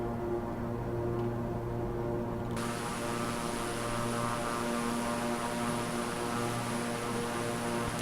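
Propeller aircraft engine droning steadily in level flight, heard as a loud, constant hum with sustained tones and no breaks or spoken voices.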